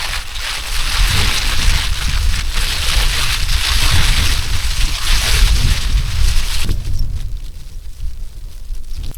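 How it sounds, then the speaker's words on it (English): Steady heavy rain hisses loudly and continuously, with rumbling low noise underneath, easing slightly toward the end. "It's not supposed to be raining right now"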